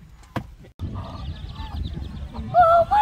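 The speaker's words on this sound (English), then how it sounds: "the goose wants more!" A goose honks at a zoo farm park, with loud nasal honks rising near the end over a busy, noisy crowd background, following a sharp knock early on.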